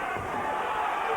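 A boxing crowd at an IBO world lightweight title fight between Wayne Rigby and Michael Ayers rumbles with steady, excited noise, with voices blending into a continuous roar over a brief moment.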